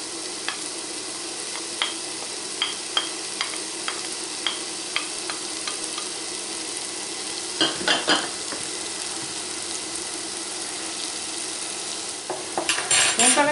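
Onions tipped into browning meat in a pan hiss and crackle steadily, with a run of regular spoon taps and scrapes against the pan, a louder burst of sizzle as they go in, close up with no talking.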